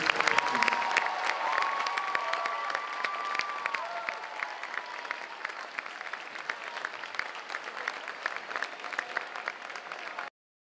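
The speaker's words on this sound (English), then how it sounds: "One last round of applause for our seniors." A crowd at a varsity boys basketball game gives a sustained round of applause for the seniors, with dense clapping and some cheering filling the gym before cutting off abruptly.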